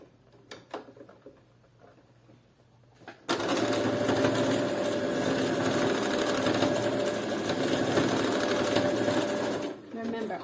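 Sewing machine running a straight stitch to attach rings onto a thong: a few faint clicks, then a fast, steady whirring run for several seconds, close and alone.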